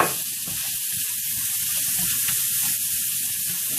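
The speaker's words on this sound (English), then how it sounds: "And then we're going to add our bacon. We're going to fry this up." Roughly chopped bacon fries in a pan, a close, continuous crackling sizzle with tiny spits and pops throughout and no talking.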